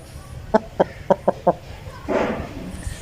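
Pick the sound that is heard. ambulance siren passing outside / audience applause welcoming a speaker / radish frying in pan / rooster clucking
rooster clucking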